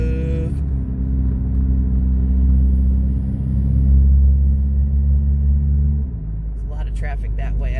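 A car driving through a tunnel, with a loud, steady low rumble of engine and road noise that shifts near the end as the sound changes, with a voice coming in at the close.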